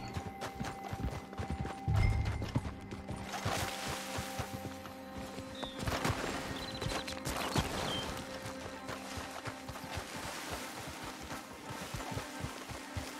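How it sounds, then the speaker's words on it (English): Horse hooves clip-clop in the video game Red Dead Online, a steady run of soft hoof beats under a busy mix of game ambience and other effects, continuing through the whole stretch. "Stop moving, you stupid horse."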